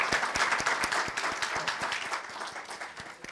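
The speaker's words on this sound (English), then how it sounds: "Again, one big round of applause" A conference audience claps to welcome a minister on stage, a fairly quiet, steady patter of hand claps that softens slightly over a few seconds.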